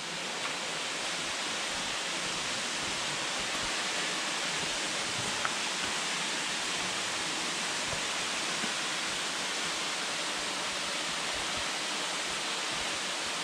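Lick Creek Falls, a waterfall reached by a trail hike, gives a steady, unbroken broadband rush of falling water, moderately loud and constant, with no voices over it.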